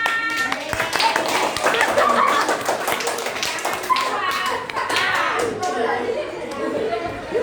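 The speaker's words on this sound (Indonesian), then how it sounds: "Kasih tepuk tangannya" Schoolchildren in a classroom clapping their hands together, a scattered, uneven burst of claps mixed with lively chatter and children's voices, fading out toward the end.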